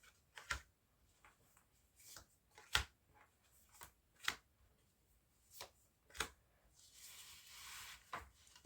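Tarot cards shuffled and dealt out one by one in a nine-card spread, giving a series of crisp separate snaps and slaps with a longer riffling rustle near the end, close and fairly quiet, with no talking.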